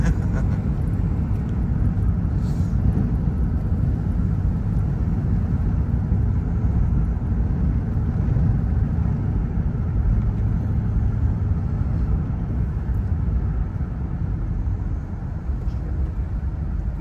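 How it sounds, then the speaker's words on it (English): A car cruises along winding mountain roads with a steady, loud, low engine and road rumble from inside the cabin. The drone holds unbroken throughout. "going through mountain roads"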